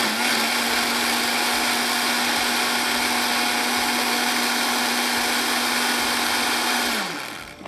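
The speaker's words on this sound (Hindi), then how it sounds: "अब इसको हम पीस लेते हैं।" Electric blender grinding browned onions with yogurt, a loud steady whirring hum held for several seconds before the motor winds down at the end.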